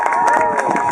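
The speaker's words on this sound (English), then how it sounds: "Let's give them one big clap." A crowd at a kids' event bursts into cheering and clapping on request, a loud close burst of mixed voices and hand claps that continues through the second.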